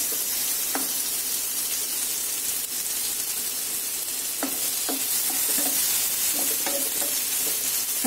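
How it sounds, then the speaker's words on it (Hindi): Paneer pieces fry lightly in a pan with a steady, even sizzle. Occasional soft pops and stirring clicks sound through it, and nobody speaks. "पनीर हमारा हल्का सा फ्राई होने लगा है।"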